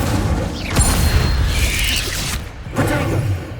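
Incendio fire spell cast in Hogwarts Legacy, a loud whooshing burst of magical flame with a booming onset, a second flare near the end, and busy game noise throughout.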